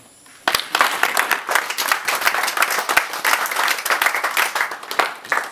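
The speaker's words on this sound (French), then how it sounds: "Je demande au président Laurent Angemezu de se lever pour qu'on applaudisse ce travail qu'il a préparé" An audience at an association's reunion gathering in Gabon bursts into applause, many hands clapping loudly and continuously from a sudden start to the end, with no talk over it.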